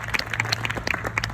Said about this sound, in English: And clap for them